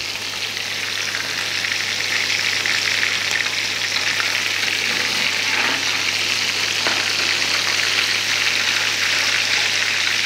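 Chapli kabab frying in oil in a pan, a dense, even sizzle that carries on steadily close by, with a faint low hum beneath and a couple of soft pops, no voices.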